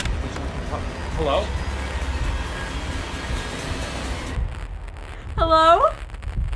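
Broadband hissing static fills the line for several seconds, followed by a brief voice speaking over a quieter background.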